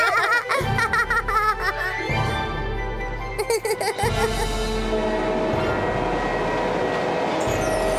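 A cartoon flying train rumbling along with a steady low rolling drone, joined by bright musical tones and giggling voices over a loud continuous bed.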